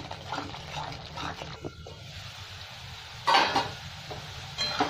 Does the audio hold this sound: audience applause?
no